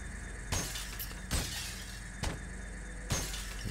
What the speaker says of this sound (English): every time we break the glass, it counts for us how much new available loot.